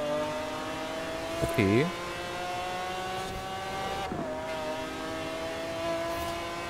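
A Porsche at full throttle in Forza Horizon 4 holds a steady, strained engine tone with rising harmonics and a quick pitch dip partway. Someone speaks briefly over it, and a short swooping sound cuts in early on.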